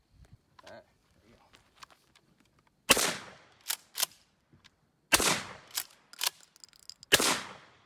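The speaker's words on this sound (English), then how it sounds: "I'm gonna shoot 3 shots, just pull up and shoot real quick and just see how she patterns" A Mossberg Maverick 88 Bantam youth shotgun fires three sharp, loud blasts a couple of seconds apart outdoors, each with a brief decaying tail, with quieter rustling and handling noises between shots.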